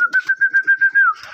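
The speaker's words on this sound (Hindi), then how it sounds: "कबूतर हमारे दरवाजे पर आ रहे हैं, इनको बहुत जल्दी है।" A pigeon at a doorway gives a brief pulsing coo, a steady whistled tone broken into about six quick beats, close and clear.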